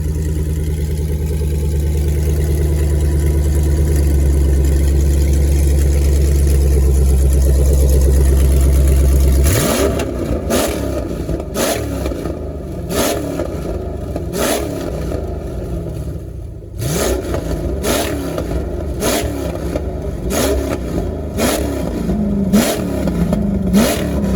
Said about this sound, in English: that's exhaust loud as fuck.